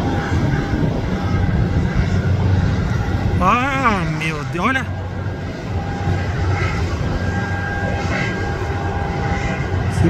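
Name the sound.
Boeing 737 MAX landing at Guarulhos airport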